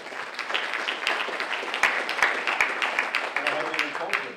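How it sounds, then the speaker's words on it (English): Audience applause for a panel speaker at a discussion event, a steady wash of many hands clapping throughout, fairly loud and close, with a few sharper individual claps standing out. "He's already getting a round of applause."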